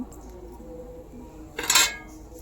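A spoon scrapes and clinks against a pan while turmeric and a ground spice mix are stirred in during kachori filling prep, a brief close metallic clatter near the end after quiet background.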